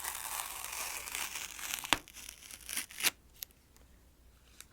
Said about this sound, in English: So you get another round of tape peeling here.